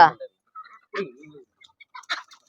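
Ducks at a village duck shop give scattered, short nasal calls and clucks, close and intermittent, mixed with brief bits of human voice.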